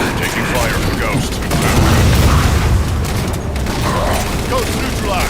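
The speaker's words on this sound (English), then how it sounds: "Taking fire from Ghost." Sustained weapon fire from a Ghost vehicle in Halo 4 roars under a dense, noisy battle din with booms and mechanical clatter, steady and loud throughout.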